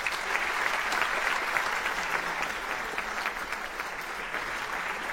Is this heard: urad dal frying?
no